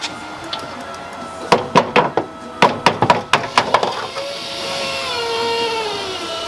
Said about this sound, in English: I bet if I hit this thing with a hammer again, it'll work